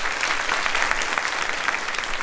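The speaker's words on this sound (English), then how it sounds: "A round of applause, please." An audience at a game-show-style program greets a contestant couple with a round of applause, a steady, even crackle of many hands clapping throughout, with no talking over it.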